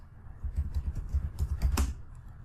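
A computer keyboard clacks under quick fingers as a kubectl command is entered, a close, brisk run of a dozen or so keystrokes with one sharper keypress near the end, no voice over it.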